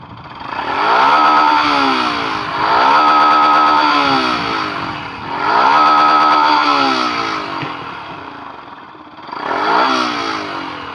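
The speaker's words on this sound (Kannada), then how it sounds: "ಇದ್ರದ್ದು ಥ್ರಾಟಲ್ ಸೌಂಡ್ ಹೆಂಗೈತೆ ಅನ್ನೋದು ನಿಮಗೆ ತೋರಿಸ್ತೇನೆ. Ignition on, starter." A Yamaha FZ V3 motorcycle engine is revved with the throttle in three strong surges and a fourth shorter one, each rising and falling back to idle, loud and close.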